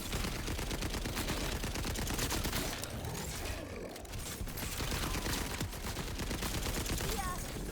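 Jakobs assault rifle fire in Borderlands 4, sustained rapid bursts of loud, dense shots with a short lull in the middle, then firing again, with faint game effects underneath.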